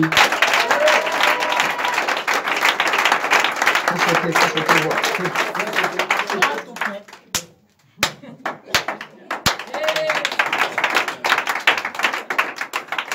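A church congregation applauds and cheers for Jesus, with dense, steady clapping that breaks briefly into scattered claps before swelling again, voices calling out beneath it.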